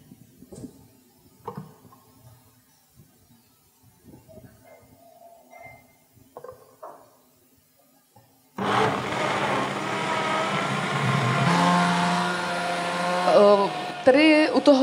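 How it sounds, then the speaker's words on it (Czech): After quiet moments with faint clinks and a few soft words, a powerful kitchen blender kicks in loudly at a cooking workshop, whirring steadily as it purees soybeans with a liter of water and shifting pitch slightly near the end. "Takže si opět dám do mixéru tu soju, opět litr teda vody. A opět budeme mixovat."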